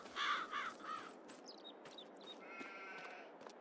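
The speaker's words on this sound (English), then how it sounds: "There you go, sheep." Sheep in Farming Simulator 22 bleat in a few quick, wavering calls near the start, followed by fainter chirps and a sustained tonal tone over a steady background of game ambience, with no talking.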